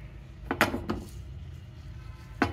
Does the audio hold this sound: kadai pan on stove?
yes